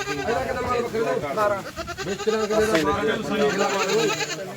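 Goats bleat repeatedly at a Sunday goat market, their wavering cries overlapping with nearby crowd chatter and bargaining voices throughout.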